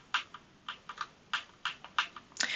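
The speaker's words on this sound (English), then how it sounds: "I can use the up, down, and tab keys to go through this list now" Computer keyboard keys tapped one at a time, including arrow and tab keys, while moving through an on-screen list: a string of about a dozen crisp, close clicks in small irregular groups with short pauses between them, no voice.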